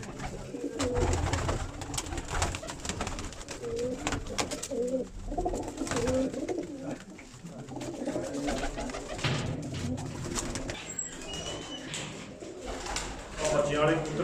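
Pigeons kept in a loft for kite-flying-style flight competitions coo in low, throaty bursts throughout, with occasional wing flutters and someone talking over them.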